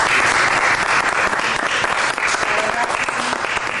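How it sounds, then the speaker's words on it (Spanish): Dense, steady applause from an audience at the Zócalo book fair in Mexico City, a crowd clapping continuously and loudly with no break. "pedirles a ustedes un aplauso para Jesús."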